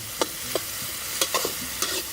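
A spice mixture fries in a wok over a wood fire with a steady, bright sizzle, broken by a few sharp scrapes and taps as a ladle stirs it. No voices are heard.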